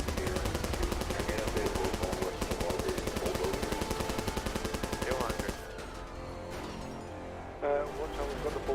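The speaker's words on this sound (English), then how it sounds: "we've got the bulldozer firing shots from the top. It's got a mounted gun." Rapid bursts of gunfire from a gun mounted on top of a bulldozer in a video game, steady dense rattling through most of the clip before dropping away near the end, with voices partly over it.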